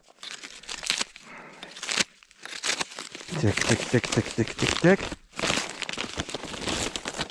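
Packaging and adhesive tape being unwound and torn off a new long-handled mop for cleaning and washing panels, with bursts of crinkling and tearing while someone talks over the rustle and repeats a word rhythmically.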